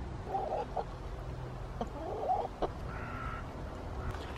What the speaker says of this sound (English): The chickens have come down to give me a hand.